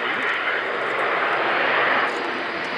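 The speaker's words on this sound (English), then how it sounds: "eventually the flaps should be being lowered for the aircraft to come through in a full configuration" An Airbus A400M transport aircraft makes a low pass at an air show with flaps lowered, a steady loud engine roar filling the whole moment.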